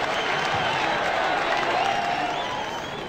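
Crowd applause and cheering from a PDC darts video game on Xbox, a dense, continuous roar of clapping that stays loud and even for the whole stretch.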